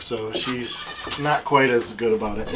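Goat kids bleat repeatedly in the background on a small farm, their short wavering cries rising and falling while someone talks over them.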